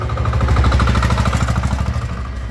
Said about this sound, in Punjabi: ਇਹ ਆਪਣਾ ਡੀਜ਼ਲ ਤੇ ਆ ਜੀ ਕਿਸ਼ਤੀ ਦਾ ਇੰਜਨ ਆ ਜੀ ਬਾਹਰਲਾ ਜਰਮਨੀ ਦਾ ਇੰਜਨ ਆ